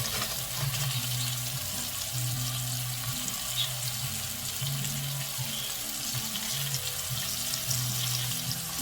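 Onions cook in a pot for butternut squash soup, giving a steady soft sizzle beneath a constant low hum, with no voices.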